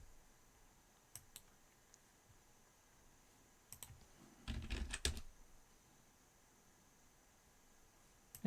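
Typing on a computer keyboard, sparse single clicks early on, then a denser burst of keystrokes around the middle, quiet and close against a faint steady hiss.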